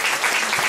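An audience bursts into brief applause, a dense wash of clapping that fills the whole short moment at a loud, steady level.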